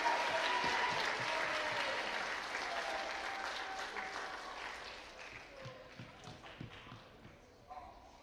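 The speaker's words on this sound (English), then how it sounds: "And then one last round of applause" A round of applause at an athletic banquet, many hands clapping loudly at first and then gradually fading, with a few scattered claps and some talk near the end.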